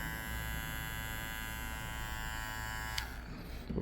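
A Ladybug hair clipper with a ceramic blade runs with a steady, close electric buzz and hum that cuts off abruptly near the end, leaving a faint rustle.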